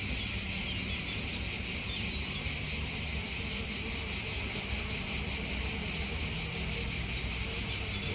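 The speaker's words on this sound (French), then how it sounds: "Et des cigales qui vous entourent." A dense, steady chorus of cicadas buzzes without a break in a sunny Mediterranean setting, loud and continuous from start to finish.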